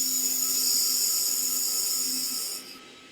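A handheld laser welder joining 0.4 mm stainless steel gives a steady high-pitched whine and hiss with a faint hum, loud and close, cutting off near the end to a quieter hiss.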